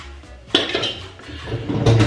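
Dishes are unloaded from a dishwasher and put away, with sharp clinks of plates and cutlery and a few louder clatters close at hand.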